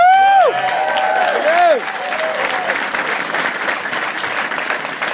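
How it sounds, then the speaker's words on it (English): A crowd at a business talk in Michigan applauds and cheers, loud and close, with whoops and a whistle-like voice sliding over the clapping early on before the applause settles into a steady roar. "So give those guys a round of applause"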